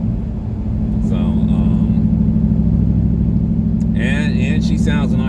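A car engine with its exhaust cutouts open idles with a deep, loud, throaty rumble, steady throughout, while people talk over it.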